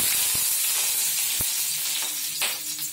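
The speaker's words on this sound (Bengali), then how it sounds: "এবার কপিগুলো ভাজবো," Cauliflower pieces fry in hot oil in a wok, a constant bright sizzle with scattered pops and spatula knocks close by.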